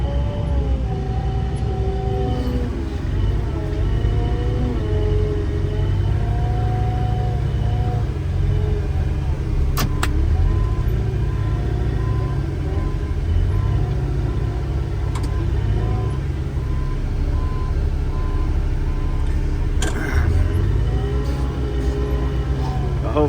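A vehicle grinds and plows a path through deep snow during a winter storm, steady loud engine rumble with continuous scraping and crunching throughout, close to the cab.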